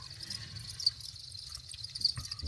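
Crickets kept in a breeding bin, large long-winged adults mixed with smaller ones, give a steady, shrill chorus of overlapping chirps, close by and continuous with no voices.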